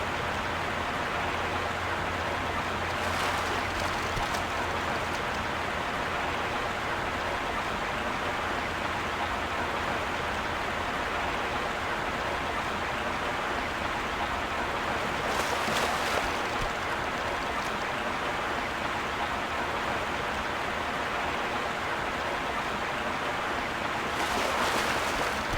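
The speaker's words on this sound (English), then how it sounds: "It's enough waterfall sounds for now." A waterfall in the video game World of Warcraft rushes steadily as a dense, even roar of falling water, continuous and fairly loud throughout, with faint brief game sound effects now and then.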